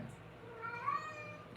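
A pet cat meows indoors in a single drawn-out, rising-and-falling cry near the middle, fairly close but not loud, over a low steady room hum.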